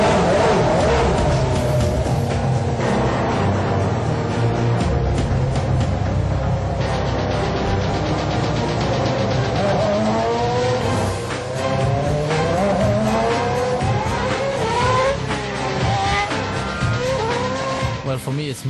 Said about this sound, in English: starting the engine for the very first lap.